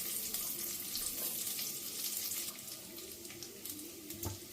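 Cashews and raisins fry in oil, a soft, even sizzle with faint stirring noises, quiet and continuous with no voices.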